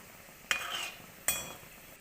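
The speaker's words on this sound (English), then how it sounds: "So now it's very nicely boiling off, so I'll just throw in these gulabs there" Gulab jamun balls are dropped into boiling sugar syrup, giving two distinct plops about a second apart, each followed by a soft bubbling hiss, quiet and close with no talking.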